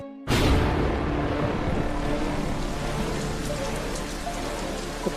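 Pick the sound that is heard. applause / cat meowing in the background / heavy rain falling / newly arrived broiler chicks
heavy rain falling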